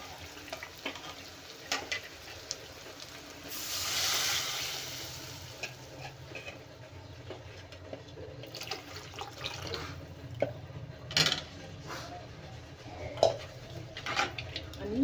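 A spoon scrapes and stirs dal in a pot for Telangana-style sambar, soft intermittent clinks and swishes over a low kitchen background, with a brief hiss of water or steam early on.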